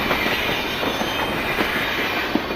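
A game train engine rolls along into a work shed, a steady close rumble with faint rhythmic clatter and a brief squeal near the end, with no talking.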